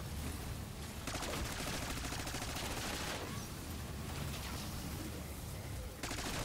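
Rapid wonder weapon fire crackles in dense bursts in Black Ops 6 Zombies on the Liberty Falls map, a loud continuous barrage with brief pauses between volleys.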